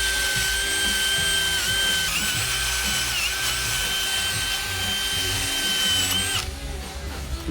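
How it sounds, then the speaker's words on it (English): A power drill spins a small wire brush against a car's metal wheel hub face, a continuous loud whine with scratchy grinding, close up, before winding down near the end. "I'm going to use a drill with a small wire brush just to clean this face."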